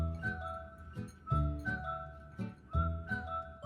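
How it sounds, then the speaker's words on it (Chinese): Chopped peanuts and a little salt stirred in a mixing bowl, giving bright clinking and scraping strokes in a steady rhythm, about eight distinct knocks, close and moderately quiet with no talking. "将花生碎倒入料理盆中，加入1/4小匙盐，拌一拌匀。"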